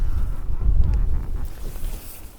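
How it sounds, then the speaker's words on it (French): Steady wind buffeting the microphone with low rumbling gusts aboard a sailboat at night, over a faint background of water; no voices. "Il y a pas mal de vent."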